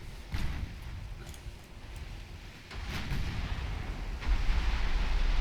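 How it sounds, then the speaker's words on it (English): A torpedo strikes a pre-dreadnought warship in a naval strategy game, with a rolling rumble of explosions and impacts over a low roar that builds toward the end. "we'll see what happens when a torpedo hits the ship"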